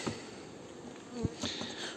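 A dense buzzing of many honeybees, including many young bees, on a hive frame close by, a steady humming drone with a few louder individual buzzes passing near.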